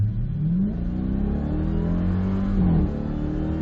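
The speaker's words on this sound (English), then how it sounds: "Love the way the exhaust blurts when it upshifts." A 2021 Dodge Durango SRT Hellcat engine revs up and drops pitch as it upshifts, the exhaust giving a brief blurt at the shift, loud and close.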